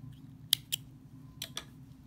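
Scissors snip embroidery thread in two pairs of quick, crisp cuts, faint and close, against a quiet low background hum.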